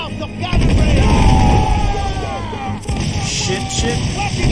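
Ship cannon fire booms during a naval battle in the video game Assassin's Creed IV Freedom Cry, with two heavy blasts under loud shouting and yelling from the game's crew.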